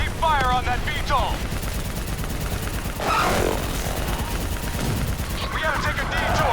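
Sustained automatic gunfire during an assault on a VTOL in Call of Duty: Black Ops 3 rattles on heavily and continuously, with shouted voices cutting in over the shooting.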